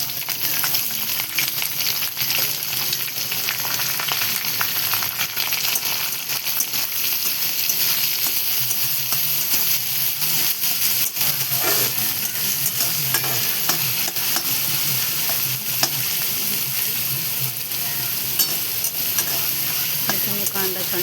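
Chopped onion sautés in a pan, a loud continuous sizzle with frequent scraping stirs throughout, close and with no voice.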